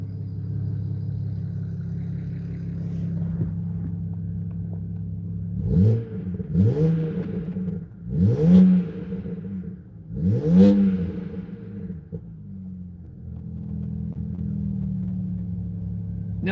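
A BMW E92 335i engine idles close by after valve cover gasket, spark plug and coil pack replacement, then revs sharply four times in quick succession, each rise falling back before settling into a steady idle.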